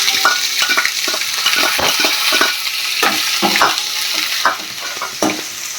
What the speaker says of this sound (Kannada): ಈಗ ನೆಕ್ಸ್ಟ್ ಇದು ಕಟ್ ಮಾಡಿ ಇಟ್ಕೊಂಡಿರೋ ಈರುಳ್ಳಿ ಹಾಕ್ತೀನಿ ಗೈಸ್